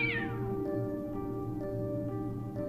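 A cat in the video game Fran Bow gives a drawn-out yowl that sweeps downward, then gives way to a sustained droning musical tone with faint periodic ticks.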